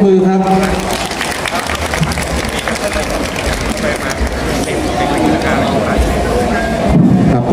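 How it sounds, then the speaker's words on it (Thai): Audience applause at a Thai shrine's centenary celebration, a steady wash of clapping blended with loud crowd hubbub and PA noise, with someone speaking over it at the start. "ขอเสียงปรบมือครับ"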